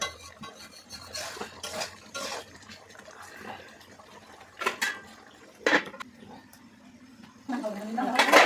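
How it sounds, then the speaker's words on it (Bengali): Water is added to biryani spices frying in a pot, with scattered clatter of a utensil against the pot and liquid splashing and bubbling, loud bursts breaking up quieter stretches. "ভেজে নেওয়ার পর মশলাটা কষানো করার জন্য আমরা একটু পানি দিই"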